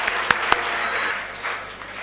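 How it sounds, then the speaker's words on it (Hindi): An audience applauds for the children at a gathering in Bhopal, with dense, steady clapping and a couple of sharper individual claps near the start. "तो एक बार ज़ोरदार तालियां हो जाए सारे बच्चों के लिए।"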